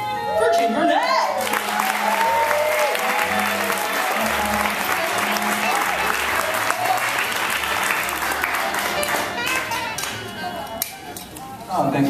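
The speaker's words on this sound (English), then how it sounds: "please give a loud round of applause for Gene Burnett!" An audience at a hip hop open mic applauds loudly for performer Gene Burnett, sustained close clapping that fades slightly near the end, with a speaking voice over it.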